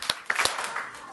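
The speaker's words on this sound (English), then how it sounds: "Clap twice if you can hear us." First graders at a school board meeting clap twice on request, a few sharp hand claps close together, with a murmur of room noise in between.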